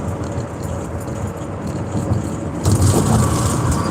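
Inside a car cruising at modest speed on a highway between Chattanooga and Nashville, a steady low road and engine rumble fills the cabin, growing noticeably louder and rougher toward the end.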